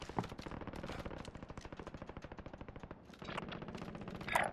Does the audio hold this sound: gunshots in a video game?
yes